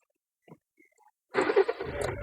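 A Honda Amaze car engine starts on a single turn of the starter, a short crank and catch that settles into a steady idle after a few quiet clicks.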